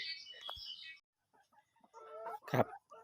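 Laying hens cluck and squawk nearby in a coop in short, scattered calls, with brief pauses between them and a few faint background noises.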